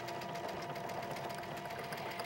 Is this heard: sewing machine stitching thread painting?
yes